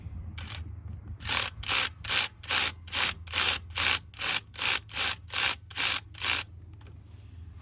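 A ratchet wrench with an 8mm socket works a radiator hose clamp on a GM 3800 engine, about a dozen crisp, evenly spaced clicking bursts close up, then stopping.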